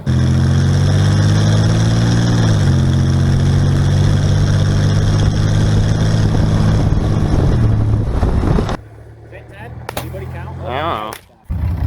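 A diesel-swapped Corvette engine runs after a transmission rebuild, with a loud, steady drone that steps up and down in pitch as it shifts, then cuts off abruptly, leaving quieter sounds and brief voices.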